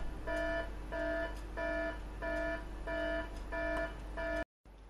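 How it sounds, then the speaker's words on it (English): An electronic alarm beeps in a steady repeating pattern of about seven pulsed tones, loud and close, then cuts off abruptly near the end. "Sound the alarm."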